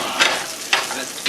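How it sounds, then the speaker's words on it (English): Breaded pollock fish sizzles while frying in a pan, a steady close hiss of oil with a few brief louder bursts as the fish is stirred. "See how the final sizzle looks."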